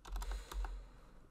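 Fingers typing JavaScript code on a computer keyboard, a rapid burst of half a dozen close, crisp key clicks that fades into quiet, with no talking.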